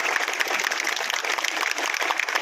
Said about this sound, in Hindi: मैं सभी साथियों से चाहूंगा कि जोरदार तालियों के साथ स्वागत और अभिनंदन करेंगे